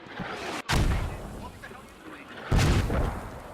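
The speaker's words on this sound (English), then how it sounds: "Mortars coming down on this FOB. Yeah, those are absolutely American mortars." Heavy American mortar shells slam into a forward operating base in a military video game, two loud booming impacts with rumbling tails about two seconds apart, with a voice talking over the barrage.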